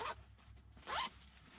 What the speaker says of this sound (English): So you put that in there, zip it up